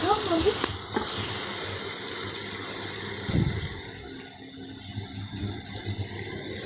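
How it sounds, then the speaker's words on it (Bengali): Pumpkin pieces fry in a pan with a steady, close sizzle and occasional stirring scrapes. Someone speaks now and then over the continuous crackle. "দেখো কত সুন্দর ভাজা ভাজা সব হয়ে গেছে, কুমড়োগুলো সেদ্ধ হয়ে গেছে"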